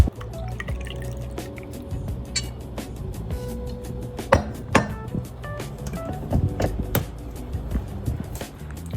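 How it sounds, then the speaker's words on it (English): Milk mixture and matcha poured into a cup full of ice, scattered drips, splashes and ice clinks over a low background rumble. "dump that in, and then matcha goes on top"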